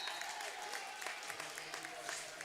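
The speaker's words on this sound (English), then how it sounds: "Gets on the board, gets a big round of applause from his teammates." Teammates on the bench applaud a made free throw at a boys high school basketball game, a soft, steady patter of clapping in a gym with crowd noise and faint talk underneath.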